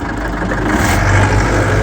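Motorbike engine running steadily near Dingla Bazaar in Bhojpur, Nepal, a low continuous rumble with slight rises in revs, close and fairly loud throughout.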